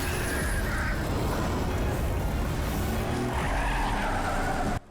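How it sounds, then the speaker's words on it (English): A truck skidding and turning over in a superhero TV episode: loud, continuous tire squeal and scraping roar filling the whole span, ending abruptly. "That whole truck is getting turned over."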